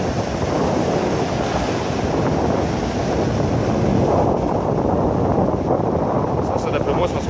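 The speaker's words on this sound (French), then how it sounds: "Sont grosses les vagues." Big ocean waves roll in with strong wind at a beach resort in Varadero, making a steady, loud surf roar buffeted by wind noise across the whole stretch.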